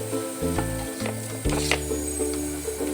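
Masala sizzles in oil in a pan as tomato is added for a spicy pea and potato curry, with a steady close frying hiss and a few bursts and stirring scrapes over a low hum.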